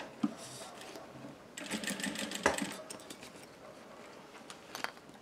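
Sewing machine running over fabric while stitching bias binding onto two joined parts of a mask-holder pouch, a moderate whirring stitch run that starts and stops with small clicks, fairly quiet and close.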